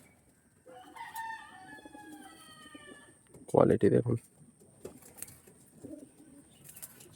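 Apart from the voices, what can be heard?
pigeons cooing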